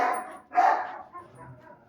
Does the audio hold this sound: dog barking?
yes